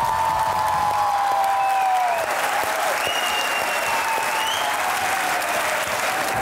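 A studio audience applauds a guest on a comedy talk show, a dense sustained wall of clapping that stays loud throughout, with faint voices mixed in.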